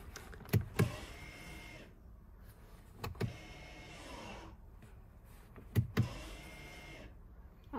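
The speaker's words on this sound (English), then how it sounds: "we can test our handbrake here" The electric parking brake on a Mercedes B-Class W246 is tested during rear brake pad replacement, giving a few short whirring motor actuations and clicks, close and fairly quiet against a faint background.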